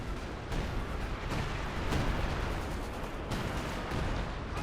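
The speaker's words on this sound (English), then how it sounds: "Commence artillery barrage." Dense, continuous artillery barrage in the World War II strategy game Company of Heroes 2, a loud rumbling wall of blasts with several sharper booming impacts standing out across the whole stretch, no voices.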